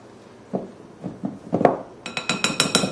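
Whole wheat flour and bread flour mixed in a bowl for no-knead sourdough bread: soft scraping strokes first, then a quick series of bright clinks as a utensil taps against the bowl, close and clear.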